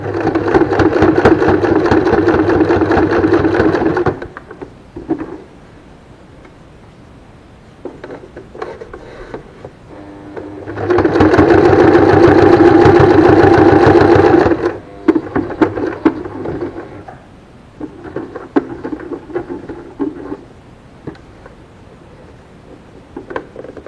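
A sewing machine stitches two layers of fabric laid one on top of the other, whirring loudly in steady bursts of several seconds with short pauses and softer intermittent runs between them.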